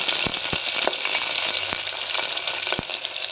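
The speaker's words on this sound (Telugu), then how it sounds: "ఆయిల్ హీట్ అయ్యాక ఇందులో ఉల్లిపాయలు 2 పచ్చిమిర్చి వేసుకోవాలి" Onions and green chillies frying in hot oil in a small pressure cooker for a Rayalaseema pitiki pappu curry: a steady close sizzle with occasional sharp clicks from stirring, and no voices.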